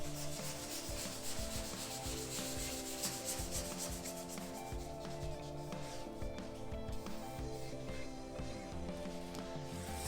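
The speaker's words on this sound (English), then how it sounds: "We need to continue sanding the rest of this roof" Continuous abrasive rubbing of a sander working over a car roof panel during rust repair and bodywork, steady and close, with a droning motor tone underneath and no talk.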